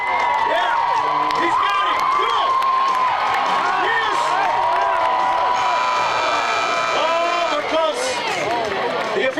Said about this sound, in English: a capacity crowd was on hand